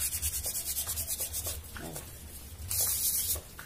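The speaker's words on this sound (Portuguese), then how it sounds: "a gente vem com um pedacinho de lixa, tá? E vai lixando aqui" Steady back-and-forth rubbing of a small piece of sandpaper on a cement pumpkin-shaped vase, quick rhythmic scratchy strokes close up, pausing briefly before a louder stretch of sanding.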